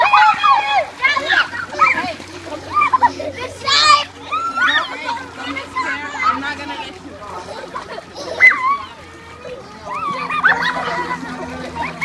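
A bucket of ice water is dumped for the ice bucket challenge at a family Labor Day weekend gathering, with splashes mixed among excited children's voices and adults talking throughout.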